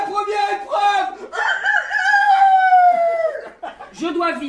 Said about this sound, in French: le coq a chanté